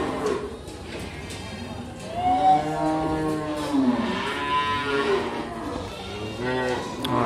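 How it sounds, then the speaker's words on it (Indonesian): Simmental cattle at a livestock market in Sukorejo moo in long, drawn-out calls, with a young heifer among them. Overlapping lows stand out over a busy background of crowd noise and chatter. "ini ada pedetan sapi betina yang baru saja masuk"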